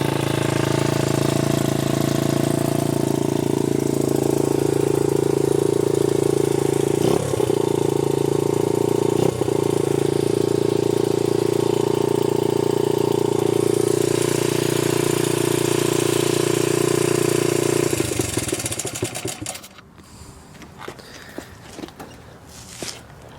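Vintage Honda dirt bike over 40 years old, fitted with a spray-paint-can exhaust, idles steadily and close for most of the run before the engine cuts off, leaving quiet shuffling and light knocks.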